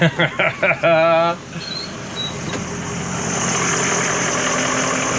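Brief voice at the start, then a school bus engine idling with a steady low rumble that continues alone, near and constant.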